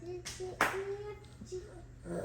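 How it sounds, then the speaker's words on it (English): Hands clap a few times along with a children's song, a couple of sharp claps standing out over singing voices. "clap your hands"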